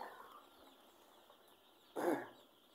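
After a quiet stretch, a single short cluck from a chicken sounds nearby, then things fall quiet again.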